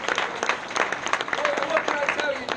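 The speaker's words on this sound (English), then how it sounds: "Let's give a big round of applause to them all" A room full of wedding guests applauds, brisk clapping rising and holding steady, with voices and a few cheers mixed into the noise.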